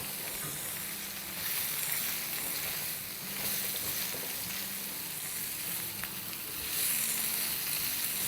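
Okra fries in a pan after lemon juice is added, for a mutton stew, making a loud steady hiss that swells and eases in waves with faint stirring.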